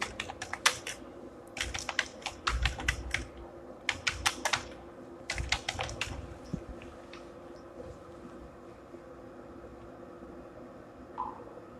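Quick bursts of typing on a computer keyboard while a plugin search is entered, the keys clattering in several rapid clusters separated by short pauses, close and fairly soft over a faint room hiss.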